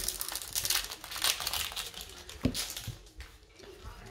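A Magic: The Gathering Double Masters booster pack wrapper is torn open and crinkled, with close, quiet rustling foil that crackles on and off for a few seconds.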